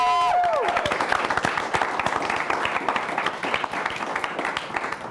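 A crowd claps steadily for several seconds in a game show episode, dense close applause that slowly thins, with a brief tonal sound and voices at the start.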